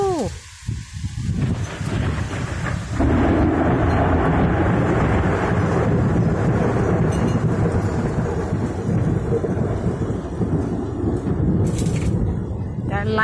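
Thunder rolls during a late-August thunderstorm as a long, loud, rumbling roar that builds after a brief opening crack, joined by hiss of rain, with short bursts of talk at the start and close.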